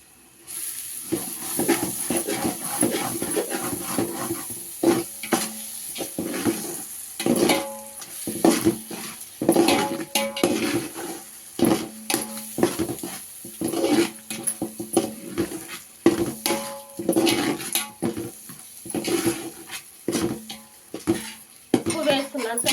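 Ingredients for chicken biryani stirred in a metal pot, a spoon scraping and clinking against the sides in irregular bursts with faint sizzling beneath, close and moderately loud.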